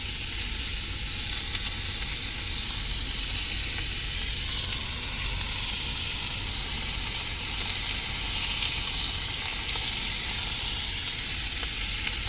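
Bacon strips sizzle and fry steadily in a pan inside a car, a constant bright crackling hiss that stays close and even throughout with no talking.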